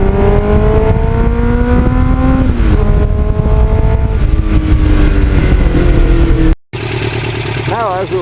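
Kawasaki Ninja motorcycle ridden on an open road, its engine droning steadily close to the microphone with rising and falling pitch as it shifts through gears, wind rushing throughout and a brief dropout near the end.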